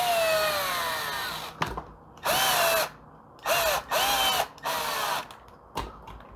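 During reassembly of a Stihl MS 260 chainsaw, a cordless driver runs screws in with several short whirring bursts and rising motor whines separated by pauses, close and fairly loud.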